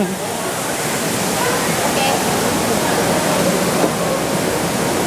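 Steady broadband rush of a waterfall at Tokyo DisneySea, continuous and fairly loud with no breaks, the flowing water filling the whole clip.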